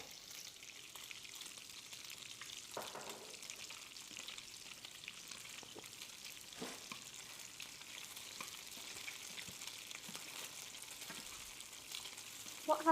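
Thin pieces of pork fry in a pan for an Asian-style stir-fry, giving a steady close sizzle with occasional stirring scrapes and faint clatter, and no talking.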